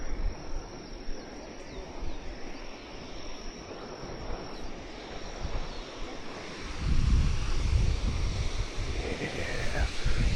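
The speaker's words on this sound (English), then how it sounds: "I hear the water coming up." Water rushing at Akaka Falls, a steady broadband roar with wind buffeting the microphone, swelling louder toward the end; no talk.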